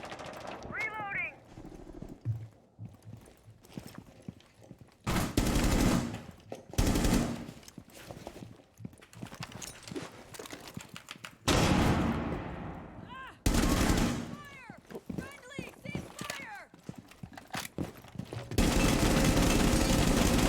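Gunfire in the Rainbow Six video game: loud bursts of automatic fire and single shots in clustered volleys separated by quieter gaps, with a player's voice talking at times between them.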